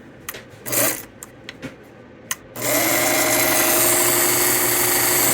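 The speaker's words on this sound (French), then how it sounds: "La machine fonctionne. C'est bien ça. Une vitesse plus haute." A Bernina Record sewing machine under repair, first a few brief clicks and handling knocks, then it starts and runs at higher speed with a loud, steady mechanical whir and hum, close and alone.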